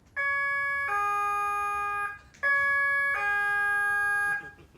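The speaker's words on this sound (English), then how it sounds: "When you hear this siren" An electronic two-tone siren sounds twice in a game-show studio, each blast a steady high wail about two seconds long with a short gap between them, fairly clear over quiet background.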